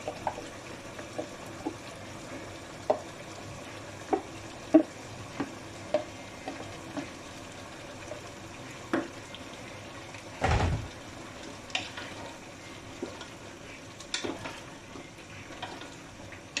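Pork liver frying for igado, with a steady low sizzle under scattered spoon clinks and scrapes against the pan, one louder clatter midway, no talking.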